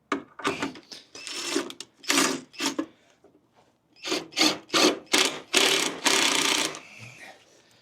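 A ratchet backs out bolts on a carbon fiber part in quick clicking bursts, close and distinct, separated by short pauses.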